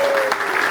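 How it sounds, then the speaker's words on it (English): An audience claps for Misha at a Nürburgring track-walk gathering, with a brief burst of dense applause close by and a faint tonal whine running underneath. "clap your hands for Misha"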